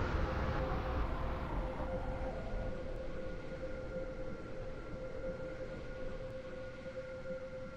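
A Roblox Stepford County Railway train stands at its terminus station, giving off a steady low rumble and hum with a faint tonal whine running throughout, with no one speaking.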